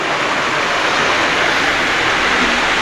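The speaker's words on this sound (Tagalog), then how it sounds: "Kalahati na ng bahay ang baha." Floodwater from Typhoon Kristine rushing through a house flooded halfway up, a loud, steady broadband roar like a torrent or waterfall that continues unbroken throughout.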